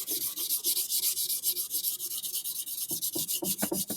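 Sandpaper rubbing over a wood project being sanded for finish, a steady near rasping in repeated strokes for the whole stretch, with no talk.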